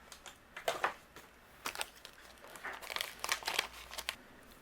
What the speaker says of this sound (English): I'm going to use the coordinating die, and I'm going to cut this out.